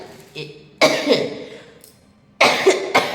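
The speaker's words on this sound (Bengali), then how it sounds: "দেখেছো কীরকম কাশি হয়েছে" Someone coughs in harsh bursts: a single cough, then a pause, then two or three more in quick succession, close by.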